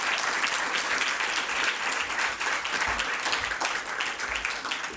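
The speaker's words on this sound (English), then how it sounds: "let's give all of our sponsors, presenters, and honorees another round of applause" At an awards reception, a room applauds sponsors, presenters and honorees with steady, full clapping that stays loud and even from start to finish, without any break.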